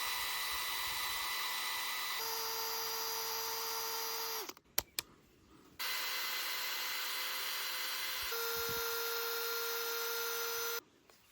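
Two Parkside Performance cordless drill versions, C4 and C3, run one after the other at steady speed, each a loud whining motor tone that shifts pitch partway through, separated by a brief stop with clicks.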